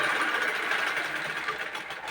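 Steady mechanical whir of a sewing machine running continuously while a fall is stitched onto a saree, a close, even hum with no talking.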